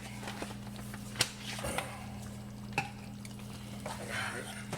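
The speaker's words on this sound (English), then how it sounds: "Stir this thing up. Try and get this seasoning mixed in pretty good." Sausage and tomato gravy with seasoning and parsley flakes stirred in a pan, giving a few sharp spoon scrapes and clinks over a low, steady cooking hum, with no talking.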